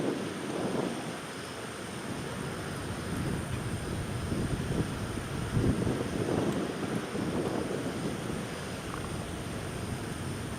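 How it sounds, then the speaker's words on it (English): An Alaska SkyWest Embraer 175 LR airliner at Austin-Bergstrom airport sounds like a steady, distant jet roar. The rumble swells gently in the middle, with wind buffeting the microphone and no talking. "It's an Embraer 175 LR."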